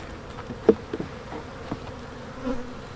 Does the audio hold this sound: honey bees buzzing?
yes